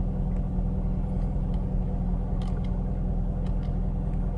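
Steady low rumble of a Chevy Corvette Stingray engine heard from inside the car, continuous and even throughout with no talking.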